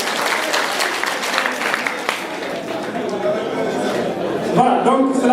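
A student association assembly in Kédougou bursts into applause after adopting new rules by acclamation, clapping dense at first and thinning out, with voices and chatter mixing in toward the end.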